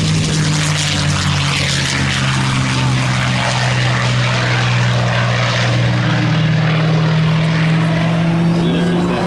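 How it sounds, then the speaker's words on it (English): Rolls-Royce Merlin piston aircraft engine at the Wings Over the Illawarra air show, a loud steady propeller drone with a deep throbbing tone, close and sustained for the whole stretch with no pause. "Unmistakable sound of the Rolls-Royce Merlin engine."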